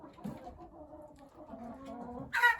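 Soft, low clucking from chickens close by, with a brighter burst of squawking near the end.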